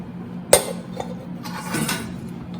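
Pressure cooker being opened in a home kitchen, a sharp metallic clink of the lid up front, then softer rattling and knocking of pots over a low steady hum.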